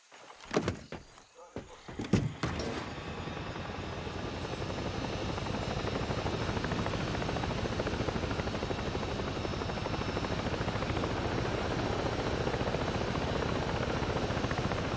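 Helicopter in the video game Ghost Recon Breakpoint, starting with a few sharp door clunks and thumps, then a steady loud rotor and turbine drone that holds through the rest.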